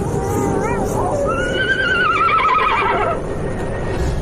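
A horse neighs loudly in a horror audio drama, a long rising and falling whinny in the middle of the clip over a steady bed of ambient noise, with a brief snort before it.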